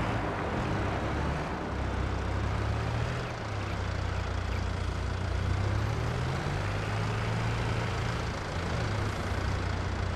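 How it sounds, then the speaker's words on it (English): Semi truck idling in Farming Simulator 22, a steady low engine drone with a slowly wavering pitch, constant and moderately loud throughout with no talk. "We have our semi-idling here. I assume that's what that sound is for."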